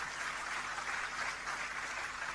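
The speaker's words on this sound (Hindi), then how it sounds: "इनके लिए जोरदार तालियां।" Audience applause at a large business gathering, sustained and even with many hands clapping together in a reverberant hall, no voices over it.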